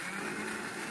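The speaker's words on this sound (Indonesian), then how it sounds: "Lalu blender" A kitchen blender whirs steadily, grinding a spice paste with kaffir lime leaves and a little water for rujak cireng sauce, a close, continuous motor roar with no talk.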